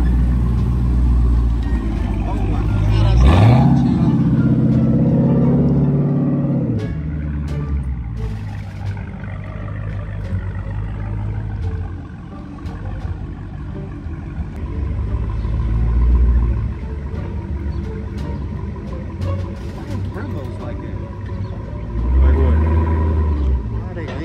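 A straight-piped 900 hp Dodge Hellcat roars nearby, one sharp rev swelling early and then deep rumbling surges that rise and fall across the stretch, with people talking between and over the engine.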